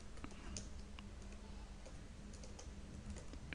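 Keystrokes on a computer keyboard as a command is typed at a DOS command prompt, a light run of close clicks over a steady background hum.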